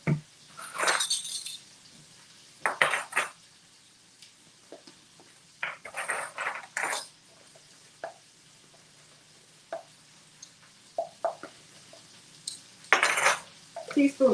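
In a home kitchen, measuring spoons and dishes clink and clatter in scattered bursts with quieter gaps while a marinade is mixed.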